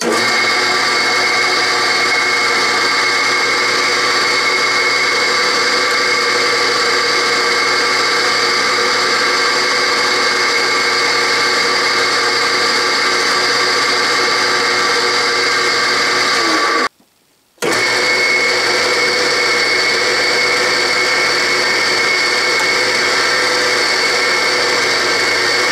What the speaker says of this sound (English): This drill press is as noisy as an old Ford V8.